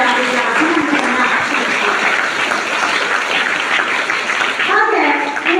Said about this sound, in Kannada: ಪ್ರಾಂಶುಪಾಲರಾದ ಸಿಸ್ಟರ್ ಸಿ.ಸಿ. ಅವರಿಗೆ ಜೋರಾದ ಚಪ್ಪಾಳೆಯ ಮೂಲಕ ಮೊದಲಿಗೆ ಅಭಿನಂದನೆಯನ್ನ